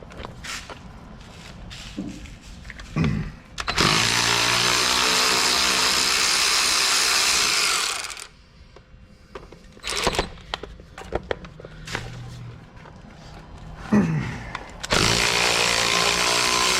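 A power tool works the 15 mm caliper mounting bracket bolts on a 2006-2012 Ford Ranger, with two long loud whirring runs and several short bursts, separated by clinks and handling noises.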